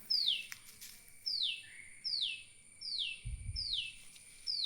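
A bird calls from the trees in a repeated series of about six bright, descending whistled notes, clear and moderately near, with a faint low rumble briefly underneath.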